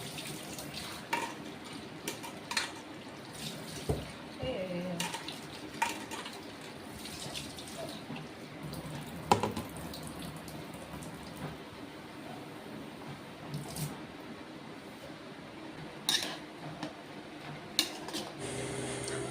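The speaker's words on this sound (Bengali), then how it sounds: "এদিকে লাউটা পটক করে ধুয়ে নেই।" Bottle gourd rinsed under running water in a home kitchen sink, a steady splashing wash with brief clunks and knocks scattered throughout, close by and without speech.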